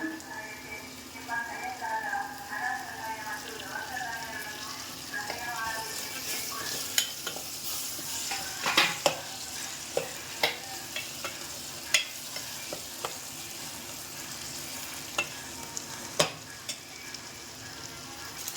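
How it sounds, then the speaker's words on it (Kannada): Bitter gourd fries in a pan with a continuous soft sizzle, while a spoon scrapes and stirs through it, leaving sharp intermittent clacks against the metal in the second half. "ಹಾಗಲಕಾಯಿ ಇವಾಗ ಚೆನ್ನಾಗಿ ಫ್ರೈ ಆಗಿದೆ"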